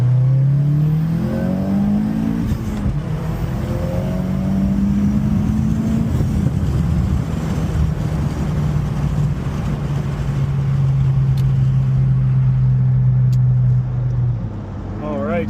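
A 2022-or-later Subaru WRX with a Perrin low-profile intake pulling hard in second gear while merging, engine note climbing steadily through the rev range for over ten seconds, loud and in-cabin, then backing off at the end.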